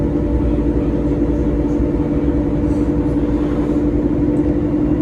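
A Mercedes O530 Citaro bus of PKS Rzeszów, heard from inside on line 216, drones with a loud steady low engine rumble and constant road noise throughout.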